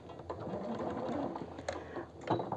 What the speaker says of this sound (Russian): И вот мы перестрачиваем и тоже ставим закрепку.